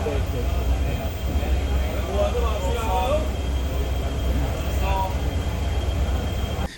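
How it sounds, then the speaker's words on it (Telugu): A train rolling into Uchipuli railway station on the Madurai to Rameshwaram line, a steady loud rumble of wheels and carriage noise throughout, with a high whine and faint squeals and a voice partly over it. "మన ట్రైన్ ఉచ్చిపులి రైల్వే స్టేషన్లోకి ఎంటర్ అవుతోంది."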